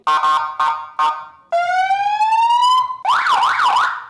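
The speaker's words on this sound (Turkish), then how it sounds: "Polis siren uygulaması yaptık." A loud electronic police siren from an Onvo RX7 electric scooter, cycling through patterns: short repeated whoops, a long rising wail, then a fast warbling yelp.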